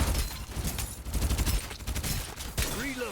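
Gunfire in the battle royale video game Farlight 84, a rapid burst of repeated shots in quick succession, loud and close, followed by a rising electronic whine.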